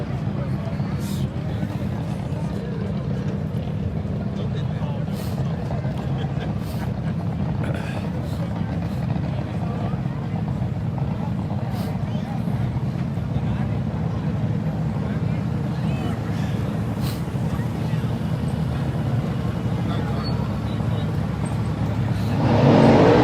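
Nitro-fuelled drag racing at the March Meet, with top fuelers and funny cars, comes through as a continuous distant engine roar over a long stretch. Talk runs underneath and the sound swells loudly at the very end.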